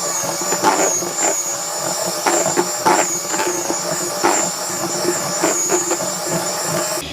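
An electric whisk churns sodium carbonate into a homegrown tobacco mix for snus, a steady close whirring drone with a few small rattling bumps throughout and no talking.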